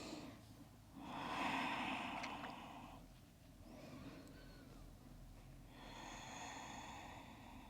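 Slow, deep breathing held in a yoga pose, two long airy breaths a few seconds apart, soft and close, with a quiet background hiss between them.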